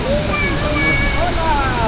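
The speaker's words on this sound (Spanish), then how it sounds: "Mire. ¡Qué bonito! Cascada Las Buitreras." Las Buitreras waterfall in Maule, Chile pours in a constant, loud rushing roar of falling water, close by, with a voice briefly over it.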